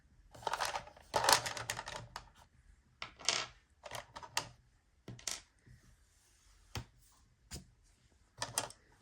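Six-sided dice are rolled on a table several times, each roll a brief burst of hard clattering taps that settles quickly, with short quiet gaps between rolls.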